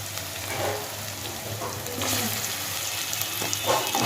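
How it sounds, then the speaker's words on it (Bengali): Onion paste frying with cumin in hot oil, giving a steady soft sizzle with a few scraping stirs, moderately close and without talk. "পেঁয়াজটা এবার কিছুটা ভেজে নেব"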